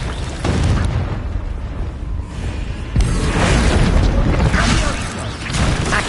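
Spell explosions in Hogwarts Legacy, loud bursts and booming blasts in quick succession with crackling debris, close and full, and a voice speaking under the noise.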